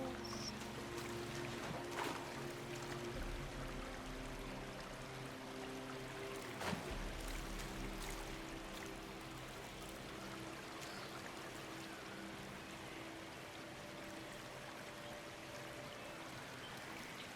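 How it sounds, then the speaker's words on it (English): A waterfall in the video game Dragon Age: Inquisition gives a continuous soft rushing of water, steady throughout, with faint ambient tones underneath. "Waterfalls."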